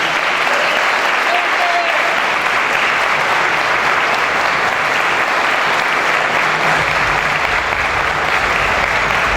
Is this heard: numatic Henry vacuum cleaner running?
no